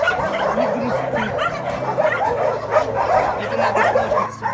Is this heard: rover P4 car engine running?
no